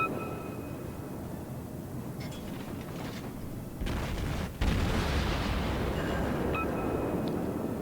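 Battleship guns fire on the South Carolina in a naval combat video game. Deep booming blasts and rumbling come up through steady engine and ambient noise, with one louder burst near the middle that keeps rolling afterward.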